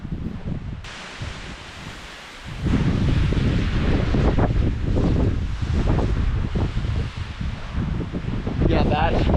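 Wind gusts roar steadily across a snowy camp in the Rocky Mountains, a broad, rushing buffet that builds and stays loud throughout, with rustling close to the microphone.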